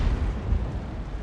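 A tank cannon fires in World of Tanks: one deep, heavy boom with a rumbling tail, close and loud, and no talking.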